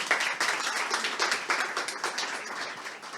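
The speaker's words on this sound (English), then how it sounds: "Round of applause for this guy." An evening demo-day audience applauds a presenter, a fairly faint, steady patter of many hands clapping with no voices over it.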